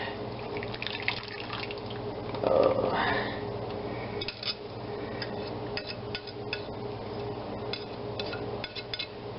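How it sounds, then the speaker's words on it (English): Marinade is poured into a Ziploc bag of Julia Child–style pork chops, giving a faint, close liquid trickle with scattered drips and a brief fuller gush partway through, and no one speaking. "let's pour in our marinade"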